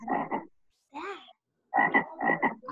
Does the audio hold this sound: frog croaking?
yes